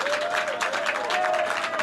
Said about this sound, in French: Applaudissements s'il vous plaît pour Marc Cassel